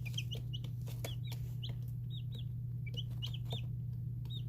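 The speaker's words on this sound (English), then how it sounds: "They have all different types of little cheeps and peeps that they make." Baby chicks in a brooder cheep and peep in quick, high, chirpy bursts scattered across the whole stretch, close by and fairly clear over a steady low electrical hum.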